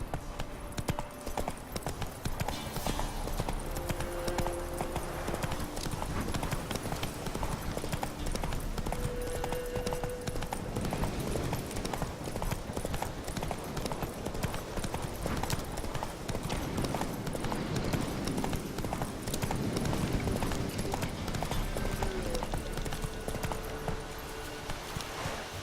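Horse hooves clip-clopping at a brisk gallop in The Witcher 3 on PC, a continuous rapid drumming rhythm over game music and ambience, moderately loud and steady for the whole stretch, with no speech.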